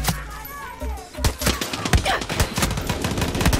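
Rapid gunfire from Far Cry 6, a dense string of loud close shots firing in quick bursts with overlapping game sounds and brief voices.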